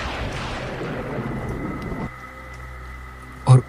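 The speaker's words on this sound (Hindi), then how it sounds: "बिजली कड़की" Thunder cracks over heavy rain on a stormy night in a cartoon scene. A dense wash of downpour gives way to a low, steady hum, then a short sharp crack near the end.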